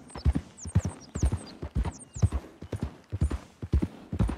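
Horse galloping in the video game Red Dead Redemption 2: a steady, rhythmic run of close hoof beats clip-clopping throughout, with no talk over them.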